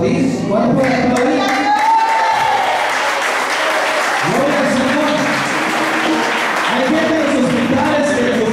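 A church congregation breaks into loud, sustained applause with a crowd murmur that fills the whole stretch, while a voice speaks over the clapping.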